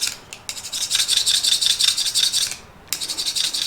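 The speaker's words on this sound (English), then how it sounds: "We're going straight to the hardness file 65 on this. We're gonna test down here on the edge." A 65 hardness file scraping along the edge of a heat-treated 80CrV2 steel knife, giving bright, loud raspy strokes in two bursts separated by a brief pause, with no voices.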